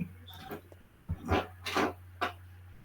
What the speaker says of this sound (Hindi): कुत्ते भौंक रहे हैं बहुत।